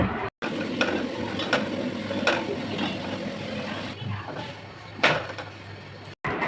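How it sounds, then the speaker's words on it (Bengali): A paratha cooks on a tawa with a soft, low sizzle broken by several sharp scraping clicks as it is turned and pressed, close and moderately quiet. "এবার পরোটাগুলোকেও ভেজে নেব"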